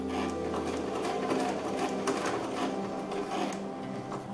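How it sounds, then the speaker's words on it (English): A sewing machine stitches elastic onto a babydoll dress, running in a steady, fast mechanical rattle throughout, close up and alone with no voices. "I'm just gonna sew a couple of steps to make sure that the elastic is on there before I start pulling it"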